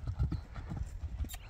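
A young Karabair and European crossbreed horse clip-clops nearby in a quick, uneven rhythm of hoof strikes, with faint background noise and no clear speech.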